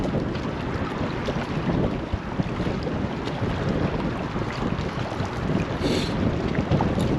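Strong wind buffeting the microphone on the River Humber shore while sea fishing, a steady loud roar with rushing gusts and a hint of choppy water beneath, continuous throughout and with no talking.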